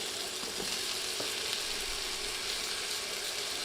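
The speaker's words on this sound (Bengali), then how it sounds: "এখন এগুলো তেলে দিয়ে ভেজে নিচ্ছি।" Cut potatoes frying in hot oil while cooking a cauliflower dish, giving a steady, close, dense sizzle that crackles evenly throughout with no voices.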